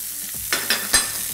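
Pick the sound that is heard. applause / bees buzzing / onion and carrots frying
onion and carrots frying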